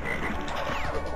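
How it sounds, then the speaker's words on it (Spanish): Frog croaking in the platform video game Crash Bandicoot 3, a short run of raspy, ratcheting croaks heard alone at moderate volume. "La rana es una desgraciada,"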